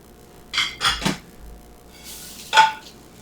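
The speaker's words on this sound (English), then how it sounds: "I'm going to take the sausages out of the pan" Vegan sausages being lifted out of a frying pan with a metal utensil: a few separate clinks and scrapes against the pan, with quiet gaps between them.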